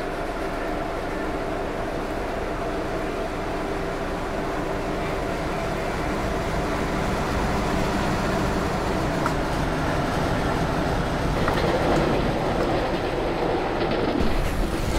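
A freight train rumbles past in the MSTS Open Rails train simulator, with a constant heavy rolling roar and faint rhythmic wheel clatter that swells slightly toward the end.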